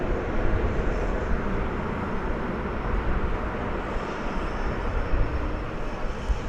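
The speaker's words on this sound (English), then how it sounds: "A 737-800 painted in the American Airlines One World livery." American Airlines Boeing 737-800 jet in One World livery arriving from San Antonio at Dallas Fort Worth Airport, a steady distant engine roar with broad rumble, constant and unbroken throughout, far off in the background.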